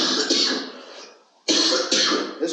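Two bursts of harsh, raspy coughing from a person with a bad cough, the first trailing off before a second loud fit, heard up close with no talking.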